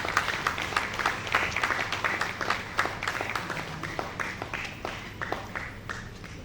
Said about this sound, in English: A round of applause for our guest speaker for today.